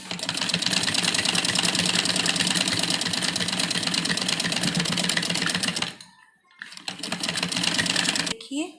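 A sewing machine stitching printed kurti fabric runs in a fast, steady whirring clatter up close, stops briefly, then starts again and continues.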